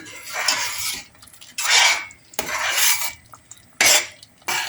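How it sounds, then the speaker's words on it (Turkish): A spoon stirs cloves and half a lemon in a cooking pan, with repeated loud scraping strokes against the metal and short pauses between them. "ve yarım limon döküyorum. Ve karıştırıyorum."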